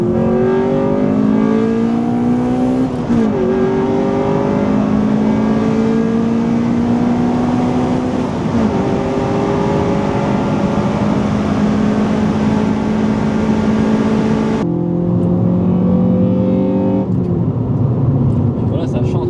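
Engine of a 1990s Honda Civic EK4 revving hard while driving, pitch climbing steadily through long pulls with brief drops at gear changes, loud and close inside the car with voices talking over it.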